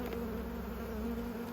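Honeybees buzz around an open hive during inspection, a close, steady, continuous droning hum with no voices.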